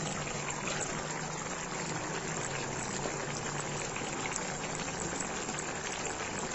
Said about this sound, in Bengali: এবার এই জলটা একটু টানিয়ে নিতে হবে, আর এই জলেই লাউটা সিদ্ধ হয়ে যাবে।